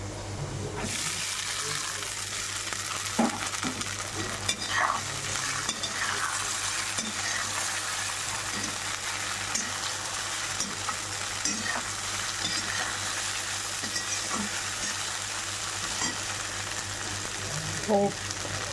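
Tapioca pearls fry and get stirred in a pan, giving a steady, close sizzle broken by scraping stir strokes and a few light clinks, with no voices.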